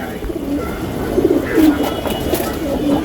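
Pigeons in a loft row of racing birds, one black-necked, give soft rolling coos that rise and fall in short repeated phrases, close and steady over faint room noise.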